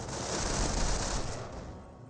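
MG42 machine gun fire from German grenadiers in the World War II strategy game Company of Heroes, a dense, continuous rattling burst of rapid shots lasting about two seconds and tapering off at the end, with no talk over it.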